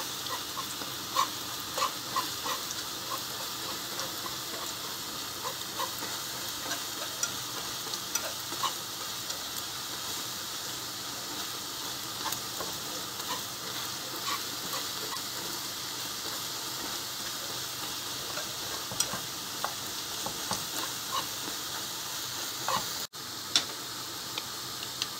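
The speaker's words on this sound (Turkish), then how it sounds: "İyice kızarsın." Egg köfte, a Şanlıurfa-style egg and bulgur patty, frying in hot oil in a pan gives a steady close sizzle with scattered crackles and light ticking pops throughout, with no talk.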